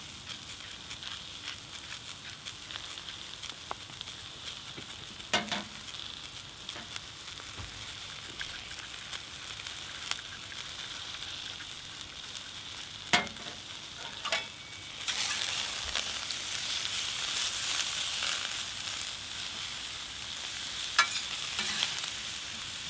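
Sweet potatoes with basil frying on a plancha, a steady soft sizzle with light crackles and occasional ticks, growing a little louder and brighter partway through, no voices.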